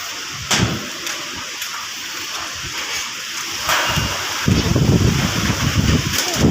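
Strong wind from Typhoon Kristine in the Philippines roars and buffets the microphone continuously, with rushing gusts growing heavier toward the end and no voices.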